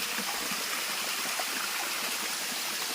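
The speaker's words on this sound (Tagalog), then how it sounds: "binisita natin itong falls. As you can see, may tubig pa rin siya." A waterfall pours steadily with a broad, constant rush of flowing water, filling the scene evenly from start to finish with no voices.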